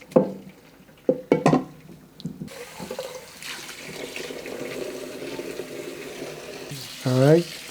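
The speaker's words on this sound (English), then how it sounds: "So we drain the water." Water drains from a pot of rice for chicken biryani, a steady close pour and splash after a few clanks of pots and utensils, with a voice speaking briefly near the end.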